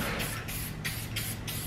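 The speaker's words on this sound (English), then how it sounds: "I'm going to spray this work area with some spray silicone" Spray silicone misted over a sewing work area while a golf cart seat cover is stitched, heard as several short, fairly quiet hissing bursts over a steady background hum.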